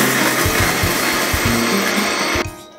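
Garlic, ginger, chillies and coriander are ground into a paste in a grinder, making a loud, close, steady whirring grind that cuts off abruptly near the end.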